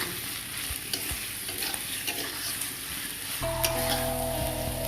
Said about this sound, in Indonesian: Kita tinggal membakar ayamnya.